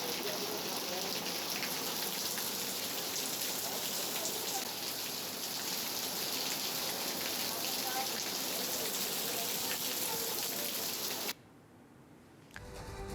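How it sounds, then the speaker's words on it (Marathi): Light unseasonal rain showers pattering steadily on surfaces in Kaij taluka, Beed, a dense even hiss of drops that runs continuously and then cuts off abruptly near the end. "आज अनेक भागांमध्ये हलक्या सरी कोसळल्या"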